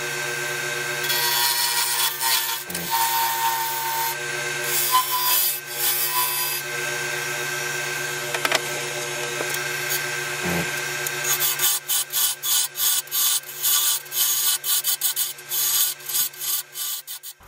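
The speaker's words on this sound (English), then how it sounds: "Now 3/8 spindle gouge." A 3/8 spindle gouge cuts a wooden trinket box lid spinning on a lathe, giving a steady close rasping scrape with a few sharp catches, then a rapid pulsing chatter toward the end.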